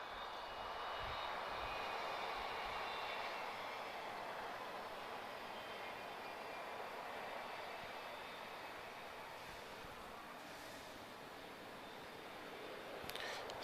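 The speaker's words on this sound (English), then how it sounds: "our final landing today is going to be TAP" A TAP airliner landing at Lisbon Airport makes a broad, steady jet roar that holds at a moderate distance and fades slowly, with a faint hiss above it.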